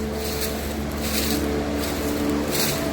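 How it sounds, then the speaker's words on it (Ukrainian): A ventilation fan in an onion storage room with ducts under the floor runs continuously, giving a loud, steady drone with a low tonal hum and broadband airy rush. "Тут вентиляція. Отакий ось клапан."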